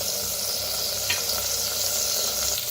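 Chopped onion frying in a clay pot, a steady dense sizzle with faint stirring scrapes, loud and close throughout with no voices.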